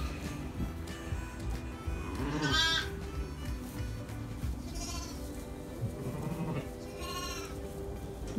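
A Welsh Mountain ewe in a lambing field gives three wavering bleats spread across a few seconds, moderately close, over steady outdoor background noise.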